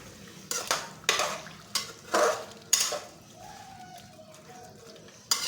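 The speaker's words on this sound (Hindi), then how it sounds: "और इसको अच्छी तरह से 2 मिनट भून लेंगे।" Ginger garlic paste frying in a pan of Peshawari charsi chicken karahi: close, sharp stirring and scraping strokes land about every half second over a low, steady sizzle, with no talking.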